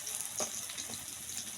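Small crispy snacks made from wheat flour sizzle quietly in oil in a pan, a soft continuous fry with faint bubbling pops and no voices.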